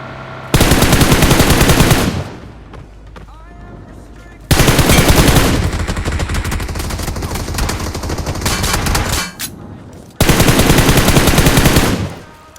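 Automatic gunfire in the mobile shooter BGMI, long loud sustained bursts of rapid shots in three separate volleys with short gaps between, very close and dominant, no talking.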